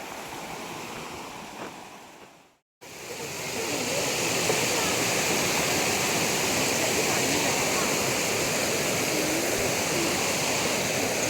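Dudhdhara waterfall on the Narmada river pours with a loud, steady broadband roar of rushing water that drops out for a moment near the start, then continues unbroken.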